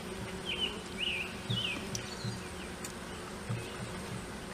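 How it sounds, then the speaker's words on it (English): A small box of honey bees buzzes steadily at close range, a continuous low hum with occasional louder passes of individual bees and faint birdsong behind. "this is a fantastic little box of bees"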